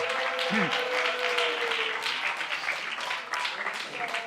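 A church congregation applauds a video editor after a sermon, with steady, dense clapping throughout and brief voices cutting in near the start.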